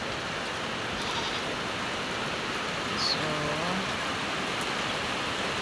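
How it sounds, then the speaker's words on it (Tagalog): Steady broadband rain falling outdoors on a rural caretaker's property, a continuous even hiss with no let-up, a faint brief chirp or voice-like sound near the middle. "Karon ga ulan."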